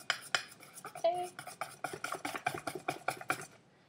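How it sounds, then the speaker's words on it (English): A whisk beats watery blini batter in a bowl, sending out a quick, steady run of close scraping clicks against the sides, with no talking. "Alright, so I'm going to whisk this up."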